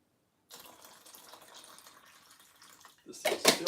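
Distilled water pours in a steady, soft stream for several seconds, then a louder, brighter splash or gush of water arrives near the end; no voices.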